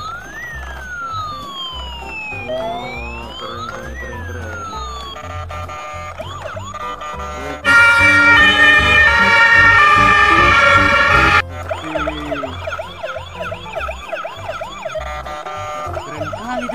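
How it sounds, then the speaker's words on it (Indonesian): Electronic siren of a spinning toy ambulance, shifting through several wail and warble patterns, loud and close, with a brief remark from a voice partway through. "Oh, ambulan yang bisa berputar putar teman."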